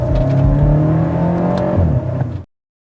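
A 2010 BMW X6M engine revs loudly up close, a deep throaty roar rising and holding for a couple of seconds before cutting off abruptly.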